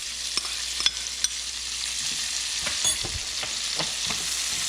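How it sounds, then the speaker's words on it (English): Onions sizzling and frying in butter and bacon grease, a steady broad hiss with scattered crackles and pops throughout, close and continuous with no talking. "Dump in all the onions."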